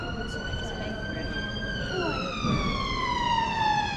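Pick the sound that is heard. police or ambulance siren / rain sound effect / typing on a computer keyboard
police or ambulance siren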